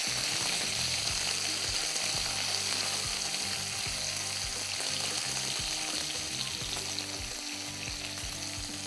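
Three large cubed onions fry lightly in a pan for kobi paneer, a steady close sizzle running throughout with faint stirring scrapes and no voices.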